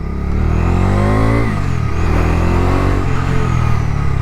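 Ridden on the road, a 2025 Bajaj Dominar 250 motorcycle accelerates hard nearby, its engine note climbing through a gear, dipping at a shift, then pulling up again, loud and continuous.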